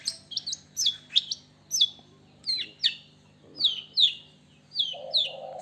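Small caged birds in an Indonesian village chirp repeatedly, a run of bright, sharp tweets coming every half second or so over a faint low hum.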